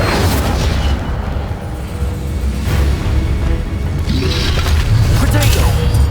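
A fire spell blast in Hogwarts Legacy bursts out in booming, explosive rumbles with a thudding low end that stays loud and dense throughout, overlapping in layers of blasts.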